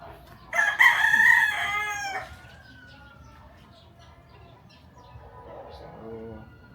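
A rooster crows loudly at a backyard chicken farm, one long harmonic call close by, followed by quieter distant crowing and faint clucking.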